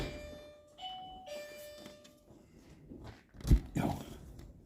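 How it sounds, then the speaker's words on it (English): A doorbell rings twice at moderate distance in a quiet room, its clear electronic tones hanging briefly, followed by a few soft knocks or footsteps. "Please ignore that doorbell."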